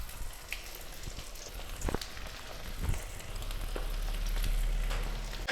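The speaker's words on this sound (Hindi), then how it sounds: "अब इसको डीप फ्राई कर लेते हैं।" Twist samosas deep frying in hot oil, a soft steady bubbling hiss with occasional faint pops and a low rumble underneath, fairly quiet and continuous.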